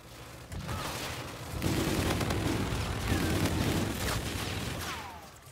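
Sustained rapid fire from the LMG Auger in Call of Duty: Infinite Warfare, a dense, loud stream of shots with game effects layered on top over several seconds.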